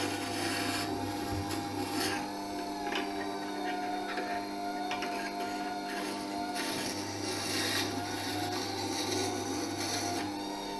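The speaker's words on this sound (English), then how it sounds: "I can slide it across the stone, which will help to give me an even amount of wear on the stone" A V-profile carving tool is worked back and forth across a sharpening stone, giving a steady close scraping rasp over a constant background hum.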